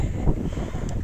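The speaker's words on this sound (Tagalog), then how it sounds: "Ang lakas ng hangin." Gusting wind buffets the microphone in a low, rumbling roar for about a second, with no voices.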